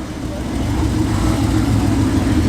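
A TVR sports car engine at a classic car meet, a steady low rumble building slightly in loudness, with someone talking over it.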